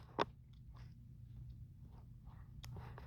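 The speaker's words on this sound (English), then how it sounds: "The disgusting chewing." Someone chews loudly close to the recorder, with a sharp crunchy bite near the start and another later, and soft wet chewing sounds between, over a low steady hum.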